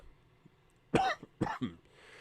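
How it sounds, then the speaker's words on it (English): Someone close by coughs, one sharp cough followed by two shorter ones, in an otherwise quiet room. "Sorry for the coughing."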